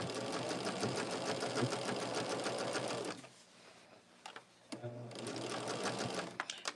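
A sewing machine stitches a blue border onto a Shooting Stars quilt, running in a steady rapid whir, pausing briefly, then starting again in short bursts before resuming its even hum.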